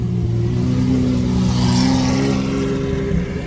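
Supercar engine idling and revving gently with its exhaust valves closed, a steady, muted mid-low drone that stays close and even throughout, with no talk.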